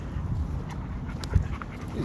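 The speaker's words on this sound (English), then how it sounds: "He's a good dog." A large dog out at a lake pants steadily at close range and lets out a few soft whimpers, with no talk over it.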